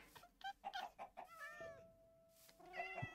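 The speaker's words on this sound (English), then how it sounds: "Okay, this is our cat." A cat in the Minecraft video game meows several times in short tonal calls, with one longer drawn-out meow in the middle, faint and clear without talking.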